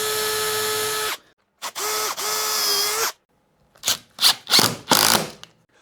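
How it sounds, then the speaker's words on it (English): A power screwdriver whines in two sustained bursts, then several short stuttering buzzes as screws drive a template into a guitar neck pocket, close and loud with pauses between. "I'm going to screw this one into the neck pocket."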